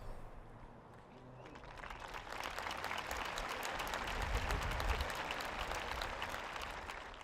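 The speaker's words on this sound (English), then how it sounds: "For that, we applaud you." A large crowd at a 2016 high school commencement ceremony breaks into sustained applause, steady and fairly distant, swelling slightly and holding for several seconds without speech.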